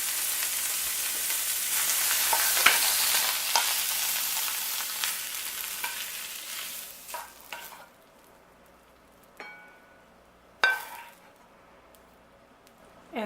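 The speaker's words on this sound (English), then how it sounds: "They are sauteed and just barely lightly brown a little bit." Morel mushrooms and fresh asparagus sauté in a pan with a soft, steady sizzle that fades away, followed by a few scattered scrapes and clinks of stirring.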